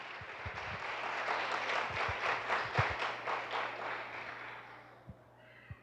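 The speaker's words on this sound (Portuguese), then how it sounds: "Então aplauda o Senhor" A church congregation claps in a rhythmic, pulsing beat that builds and then thins out, leaving a few scattered, separate claps near the end.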